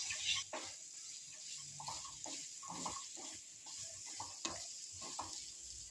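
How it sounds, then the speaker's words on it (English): Lady fingers (okra) are stirred in a frying pan, a soft sizzle under scattered scrapes and knocks of the spoon, fairly faint and close, without speech. "Put the lady fingers in it."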